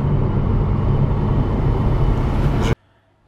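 Loud, steady road rumble from a car travelling at highway speed, around 130 km/h, a continuous close-up roar with no voices that cuts off abruptly near the end.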